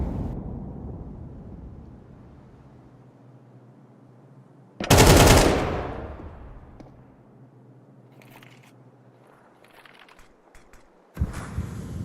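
Gunfire in a competitive shooter match: after a fading tail of earlier shots, one loud, sharp burst of shots in the middle, a few faint distant pops, then another burst at the very end.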